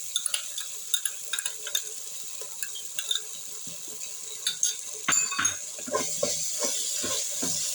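Tomato paste and tomato ketchup cooking in a pan, with close, repeated clicks and scrapes of a spoon stirring against the pan over a soft continuous sizzle, getting busier toward the end, no voices.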